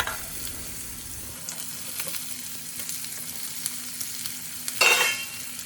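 Mustard seeds, cumin, tindora and potato pieces hit hot oil in a tempering pan: a close crackling sizzle with stirring scrapes and a sharper burst of spluttering near the end.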